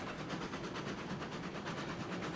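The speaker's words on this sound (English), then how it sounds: "This train feels so slow." A train in the video game Railroads Online rolls along with a steady, dense rumble and a rapid rhythmic pulsing of wheels on track, continuous and unbroken with no talk.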